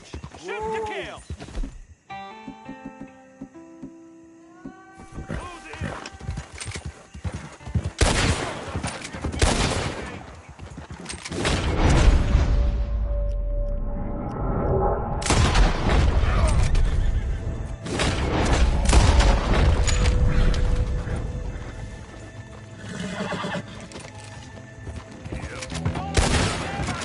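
Gunfire in Red Dead Redemption 2, scattered sharp shots and volleys amid horse hooves and whinnies, with voices shouting over the fight at times.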